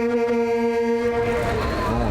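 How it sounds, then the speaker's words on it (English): A John Deere tractor in a Christmas parade sounds its horn with a sustained, droning honk that fades into crowd chatter and voices nearby. "giving the kids a couple beeps."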